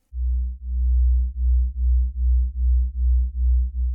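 A synthesizer sine wave with detuned layers gives a steady low hum that wobbles in a slow, regular pulse, about eight swells over four seconds, alone with no voices.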